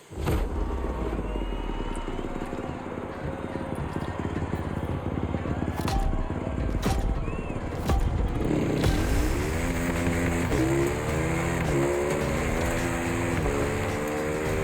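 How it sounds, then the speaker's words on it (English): A Kawasaki motorcycle engine in The Crew Motorfest drones steadily and loudly throughout, rising into revving pitch sweeps toward the end, with a few sharp clicks and light talk underneath. "like a swift, maneuverable motorcycle"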